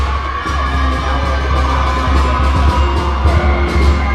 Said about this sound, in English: between the band and the cheering, they're so very excited about what's happening for the Panthers right now